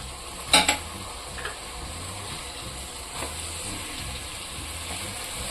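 Small cut pieces of boneless chicken go into a pan of cooking vegetables for nonbu kanji, with a brief clatter of dropping pieces and a quick stir near the start over a steady low cooking hiss.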